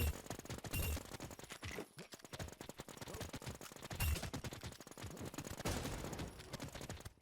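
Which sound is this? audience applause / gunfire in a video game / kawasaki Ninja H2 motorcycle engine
gunfire in a video game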